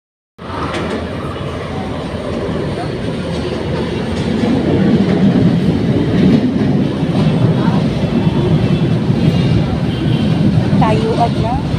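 An LRT light-rail train rolls into a station in Manila's Tondo district, a loud rising roar of wheels and carriages building over several seconds and staying close, with people talking in the crowd.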